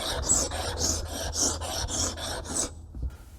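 A file rasps along the blade of a paint scraper held in vice grips, nine even back-and-forth strokes in a steady rhythm, close and loud, then stopping.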